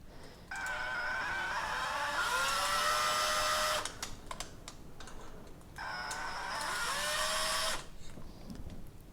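Electric drill spinning a T-handle of welded round-bar scraps to power-feed a lathe compound (top slide): two long, loud steady whining runs of several seconds each, with a short clattering pause between them and no talking.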